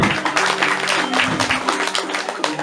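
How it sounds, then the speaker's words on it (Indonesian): Clapping from an audience at a Balinese bondres comedy show, a dense, steady patter of hands throughout with some background voices and a low hum underneath. "tepuk tangan dong"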